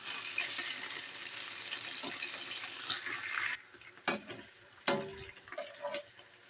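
Bitter gourd (ampalaya) frying in plenty of oil in a pan, a steady close sizzle that drops off midway, followed by a few stirring scrapes and bursts of crackle.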